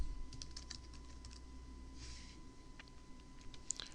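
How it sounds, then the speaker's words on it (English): Typing on a computer keyboard, a quick run of light key clicks tapping out close by in a quiet room, with brief pauses between bursts. "you can just start typing in"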